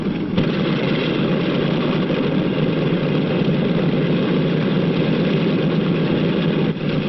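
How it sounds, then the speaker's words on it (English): A 1940s propeller airliner taxis toward the runway at an airport, its engines giving a steady, droning rumble with a low idling throb that holds evenly throughout, with no talk over it. "The plane starts over to the runway. There it will wait for its turn to take off."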